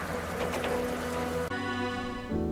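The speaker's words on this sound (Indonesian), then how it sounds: "Lalu turunlah hujan yang lebat." Heavy rain pours down in a steady, dense hiss, loud and continuous, with a low rumble beneath and no talking.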